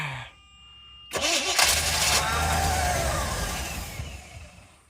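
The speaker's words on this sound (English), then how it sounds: "We're just gonna turn our ignition." A Chevy-powered 1983 Jaguar engine cranks briefly, catches after a push-button ignition start and settles into a loud, steady idle with a low rumble that fades slightly toward the end.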